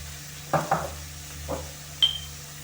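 A few soft scraping stirs of garlic in a frying pan, spaced out over a quiet background with a faint steady hum.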